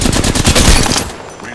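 Rapid automatic gunfire from a weapon in Apex Legends, a dense string of sharp shots for about a second before cutting off, loud and close.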